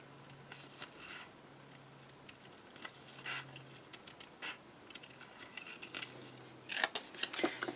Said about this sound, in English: And then I'm going to cut and follow along that curve.